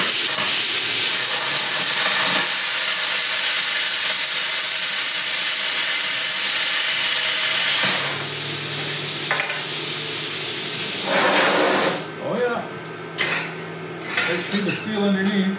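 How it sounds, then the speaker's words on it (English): A Hero Cut 45i plasma cutter slices through 1/16 inch steel, giving a loud steady hiss and roar that runs for about twelve seconds, then ends in scattered clanks and metallic rattles. "We will see how well she cuts this 16th inch steel."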